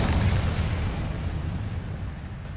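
An Incendio fire spell bursts in Hogwarts Legacy, a loud whooshing blast with a deep roar that holds and then slowly fades over a couple of seconds.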